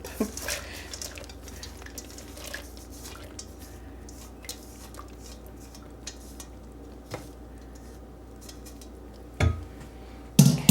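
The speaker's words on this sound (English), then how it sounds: "I'm going to give that a stir" Beans and peas being stirred in a pot: soft wet squishing under a low kitchen hum, with a few faint scrapes and knocks of a utensil against the pot and a louder clunk at the end.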